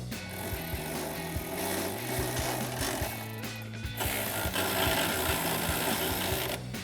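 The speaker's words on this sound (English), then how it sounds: "We're gonna use our 18 millimeter socket on a ratchet just to get this going." A ratchet fitted with an 18 mm socket tightens a nut on a Ford F-250 front lift coil spring install, a rapid run of close mechanical clicks in bursts with brief pauses and a hollow background hum.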